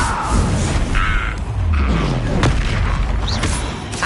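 An Incendio fire spell cast in a Hogwarts wizarding video game bursts with a heavy booming whoosh amid spell effects and crackle, loud and continuous over several seconds, without speech.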